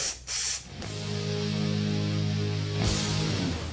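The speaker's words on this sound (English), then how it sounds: "when we twist the nozzle back, we get a vertical spray" Short hissing bursts of Q30 rust-prevention stretchable waterproof film spray from an aerosol can with an adjustable nozzle, then a longer continuous spray with a faint mechanical whine underneath.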